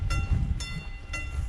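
A passenger train rolls through flooded Croatia toward Ogulin, giving a steady low rumble with a rhythmic wheel clack roughly every half second, close and continuous.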